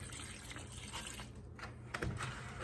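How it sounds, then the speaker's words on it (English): Milk poured into a pot of homemade mashed potatoes gives a steady, close liquid wash and trickle that runs without pause for a few seconds, with a slight splash near the end. "to make it really nice and creamy, I'm going to add a little bit of milk"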